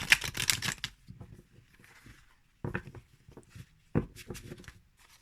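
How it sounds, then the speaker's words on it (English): Tarot cards being riffle shuffled: a quick crisp flutter of cards at the start, then softer handling rustles and a couple more sharp riffling bursts, close and fairly quiet. "So if I were to do a riffle shuffle,"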